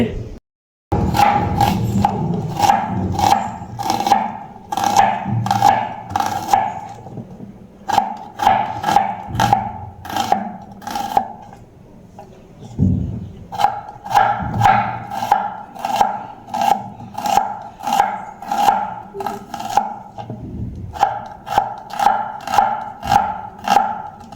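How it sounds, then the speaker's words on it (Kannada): A knife chops onions on a board in quick, steady rhythmic bursts of sharp taps, pausing twice between runs, with a dog barking in the background. "ಇನ್ನು ಈರುಳ್ಳಿಯನ್ನು ಕಟ್ ಮಾಡ್ತಾರೆ"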